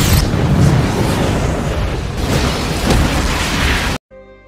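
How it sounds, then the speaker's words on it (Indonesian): A ship's oil tank explodes in a film scene, a loud, sustained roaring blast that rumbles for several seconds before cutting off abruptly. "menembaki tangki minyak di kapal. Hal ini menyebabkan ledakan yang membunuh sipir dan anak buahnya"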